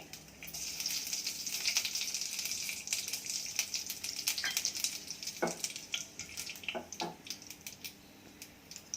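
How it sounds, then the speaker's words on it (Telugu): Mustard seeds splutter in hot oil in a pan: a dense, close sizzle crackles throughout, with several sharp pops standing out near the end. "ఆయిల్ వేడెక్కాక ఆవాలు వేసుకుందాము. ఆవాలు చిప్పట్లాడాలి."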